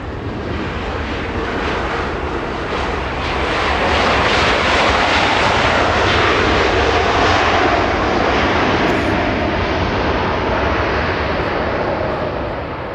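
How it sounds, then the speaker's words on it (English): An American Airlines Airbus A321neo jet arrives at Los Angeles International from Miami, its engines a loud, steady broadband roar that swells slightly midway and holds for the whole stretch, with no voices. "That's an A321neo."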